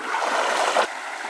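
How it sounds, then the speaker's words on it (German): A small brook flows nearby, a close, steady gurgling wash of water with a brief louder splash midway before settling back to an even trickle. "Wir haben hier einen kleinen Bach entdeckt."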